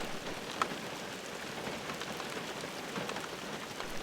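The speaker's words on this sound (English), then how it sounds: "And then the rain just doubled up again." Heavy rain pours steadily beside a creek during a June monsoon storm, a dense, continuous hiss of drops on surfaces holding even and close throughout, with no voices.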